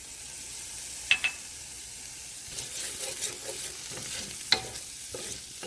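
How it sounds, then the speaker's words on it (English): Garlic sizzles in a pan with translucent onions for a Guinness stew, a steady close frying hiss broken by a couple of sharp utensil clicks and stirring scrapes, with no voices. "now that our onions are just about translucent, we're going to go ahead and drop in our garlic"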